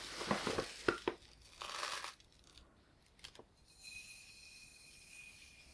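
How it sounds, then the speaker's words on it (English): Handfuls of gunmetal grey gravel rattle and clatter in a few quick bursts of grabbing, followed by quieter scattered clicks and a faint hum. "gravel. So I'm just going to grab it."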